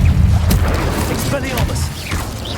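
A fiery Confringo spell blast in the video game Hogwarts Legacy booms loudly amid rumbling impacts and crackling effects, with a voice talking over the noise.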